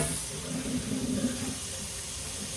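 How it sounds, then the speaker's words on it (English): A tap runs water into a sink for rinsing during laundry, a steady close gushing stream that holds at moderate level throughout. "I should get my water running so it gets warmed up"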